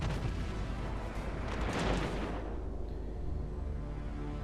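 Battleship main-gun salvo in a naval video game: a loud, dense roar of cannon fire swells to a heavy peak near the middle, then fades into a sustained rumbling wash.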